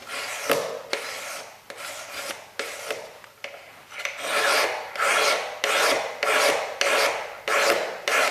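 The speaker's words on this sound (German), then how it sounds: "Wenn da ein Gussstück ist, welches geschmirgelt und gut vorbereitet wird zum Polieren." Sanding a cast fountain pen part by hand makes a close, rhythmic rasping, with repeated back-and-forth abrasive strokes, each about half a second long, heard alone.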